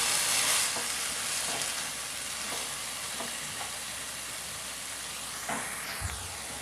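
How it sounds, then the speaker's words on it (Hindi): Chicken keema frying in a pan while a spoon stirs it, giving a steady close sizzle with soft scraping strokes and a few clinks, no voices. "कीमे को अच्छे से फ्राई करेंगे 4-5 मिनट।"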